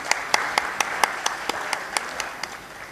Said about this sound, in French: Mesdames, Messieurs, applaudissez pour vous